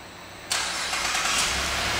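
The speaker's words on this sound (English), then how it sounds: "and the car starts right up" A 2011 Buick LaCrosse CXL started by remote start, its engine catching abruptly after a brief quiet moment and then settling into a steady, fairly loud idle.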